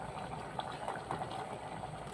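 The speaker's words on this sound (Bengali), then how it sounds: "প্রথমে আমি মাছগুলা ভালোভাবে সিদ্ধ করে নিলাম" Tilapia pieces simmering in a pot of water for a curry with jackfruit seeds, potato and spiny gourd, giving a steady, moderately faint bubbling boil that runs unbroken with no talk.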